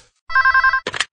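Telephone bell rings in a Korean radio advert for a gomtang beef-bone soup shop near Ganghwa Bridge, a short burst of rapid electronic trilling that stops abruptly and gives way to a voice.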